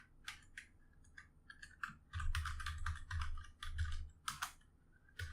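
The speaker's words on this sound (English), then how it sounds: "I don't like typing, man" Fingers type on a computer keyboard in irregular quick bursts of clicky keystrokes, close and fairly quiet, with a low rumbling hum underneath.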